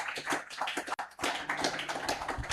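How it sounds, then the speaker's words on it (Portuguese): A church congregation gives a round of clapping, quiet and somewhat distant, with a brief gap before the patter resumes and continues. "uma salva de palmas, para a glória de Deus"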